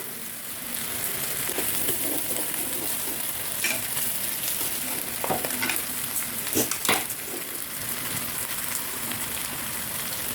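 Steady sizzling of chicken frying with masala in a pan, with occasional scraping and stirring sounds; no voices.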